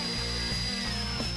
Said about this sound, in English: you have to drill deep enough to make sure there's not a lead core or some other metal in the middle of the bar